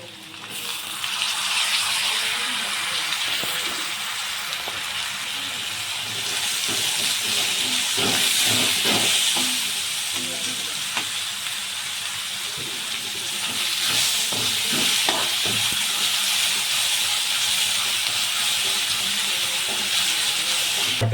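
Tomatoes sizzling in a pan with fried garlic and onion for chicken pota masala, a loud steady hiss of frying with occasional soft stirring clicks, continuous and close with no speech.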